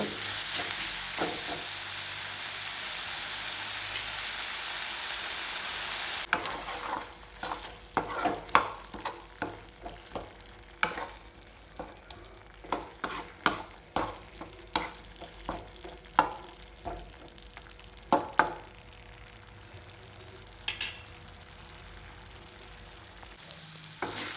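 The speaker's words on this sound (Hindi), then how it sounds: "तब तक भून लो" Ivy gourd (kundru) being stir-fried with spices for an egg curry, a steady sizzle at first, then repeated sharp spatula scrapes and knocks against the pan in an uneven rhythm.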